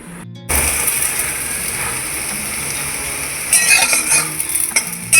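Lentil fritters made from split peas ground with ginger, green chilli and spices frying in a pan, a steady loud sizzle after a brief quiet start, with a few metallic clinks of a utensil near the end.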